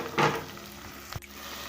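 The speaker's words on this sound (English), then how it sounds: "So I'm just frying it in some red onions." Pre-boiled meat and red onions fry in a pan, giving a soft sizzle with a brief burst of stirring at the start and a quick clack partway through, quiet and close.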